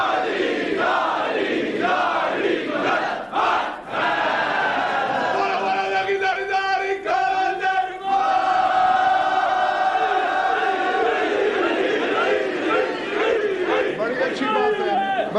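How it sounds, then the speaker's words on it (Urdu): A crowd at a religious majlis in Multan loudly chanting slogans in unison, rising and falling in waves of massed voices, with sustained shouted calls and responses filling the space. "تم نعرے لگاتے رہو"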